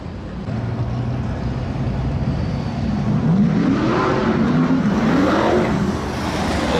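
A Ford Mustang drag car launches and accelerates down the strip at Seekonk Speedway, its engine a continuous loud roar that climbs in pitch as it pulls away, with no talk over it.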